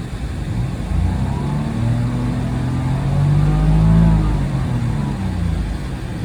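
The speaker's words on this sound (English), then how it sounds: "The car revs just fine, as you can see." A 2004 Porsche 986 Boxster engine revs steadily, pitch rising to a peak and then easing back down, with a continuous low rumble throughout and no talking.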